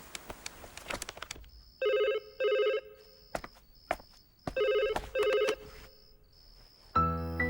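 A telephone rings in repeated double bursts, loud and close, separated by quieter gaps with clicks and faint background sounds, ending with a different tonal ring.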